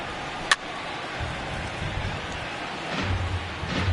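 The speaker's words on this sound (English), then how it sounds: "Really starting to pour now, and the forecast is not showing any signs of a break in the weather." Heavy rain pours down on a baseball field in the video game MLB 19 during a Braves vs. Phillies game, a dense continuous hiss with a low rumble swelling toward the end and one brief sharp crack near the start.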